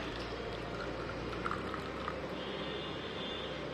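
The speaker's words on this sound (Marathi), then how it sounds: "ह्याच्यामध्ये मी गरम पाणी टाकते" Hot water pours steadily over ten almonds and ten cashews set to soak, a continuous soft rushing stream lasting a few seconds with no voices.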